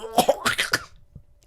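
A voice imitates a father's harsh cough, giving several rough hacking bursts with throat-clearing rasp, up close and loud, then a brief quiet pause.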